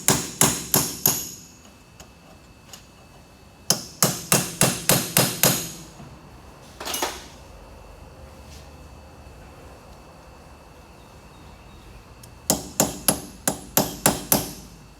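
A hammer strikes a punch against a staked axle nut on a 2001-2005 Honda Civic rear hub, loud sharp metallic blows in quick rapid bursts of five or six, separated by pauses, close up.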